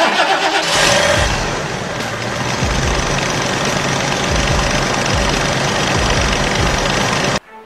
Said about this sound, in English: So now let's have our friend crank the engine again while we watch our testers.